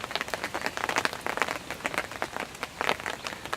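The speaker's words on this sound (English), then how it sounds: "starting to rain again heavily" Heavy rain falling at a lake under a dark cloud, a dense, steady patter of drops on surfaces close by, with no voices.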